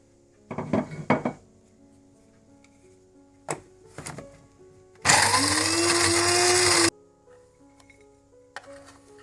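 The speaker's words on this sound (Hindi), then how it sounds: "इसके बाद मैं बादाम और अखरोट को भी थोड़ा थोड़ा ग्राइंड कर लूंगी।" An electric grinder whirs in a loud two-second burst as it grinds almonds and walnuts for baklava, set among brief clinks and knocks of the kitchen jar and utensils before and after.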